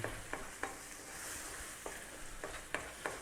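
Cheddar cheese is stirred into a mushroom sauce in a pan, with a quiet, steady bubbling sizzle under light, regular taps and scrapes from the spoon. No voices are heard.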